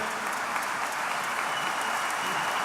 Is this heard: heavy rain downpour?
no